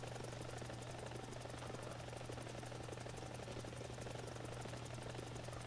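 A helicopter in the War Thunder video game flies with one engine lost, its rotor beating in a fast, steady, loud drone that runs unbroken from start to end.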